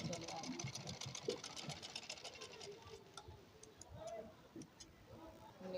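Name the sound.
sewing machine stitching a blouse lining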